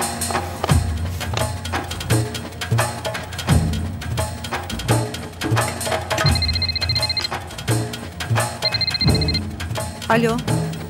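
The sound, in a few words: telephone ringing on an outgoing call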